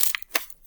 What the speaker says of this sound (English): she took her handy little pair of scissors and she cut some windows